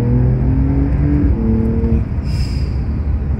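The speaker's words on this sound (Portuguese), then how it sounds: "estou em segunda neste momento e pisei" Porsche 911 Carrera S with a flat-six engine pulling hard in second gear, a loud, close, steady engine drone that shifts pitch partway through, heard from inside the car with no talk.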